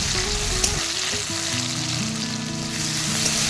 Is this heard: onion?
yes